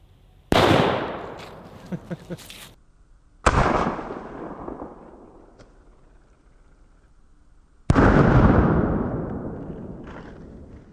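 A 37mm launcher fires outdoors at a target about 50 yards away, giving three sharp loud booms several seconds apart, each with a ringing, decaying tail, with faint pops between.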